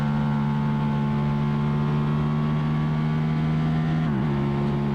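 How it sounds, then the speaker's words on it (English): A racing motorcycle engine at an AHRMA SOT3 race pulls hard at high, steady revs toward the red line, droning loud and continuous with a slight dip in pitch near the end. "But the motor's pulling really strong."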